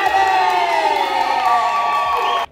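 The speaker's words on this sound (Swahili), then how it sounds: "Vigelegele!" Loud, sustained high-pitched ululation from many women rising over crowd cheering at a Swahili wedding celebration, continuing steadily for a couple of seconds before cutting off abruptly.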